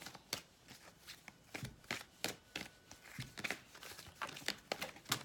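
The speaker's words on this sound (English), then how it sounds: "I'm just going to do a little bit more shuffling on camera" Tarot cards are shuffled by hand in a quiet room, giving a rapid series of crisp riffles and soft slaps, close and fairly quiet, with no talking.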